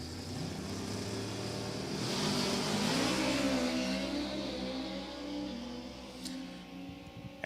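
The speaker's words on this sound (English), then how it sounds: "Ackerman's car shifting its way through the gears down there" Drag racing car at New England Dragway accelerating down the strip and shifting through its gears, a loud sustained engine roar with rising pitch sweeps and gear-change dips, heard from a distance.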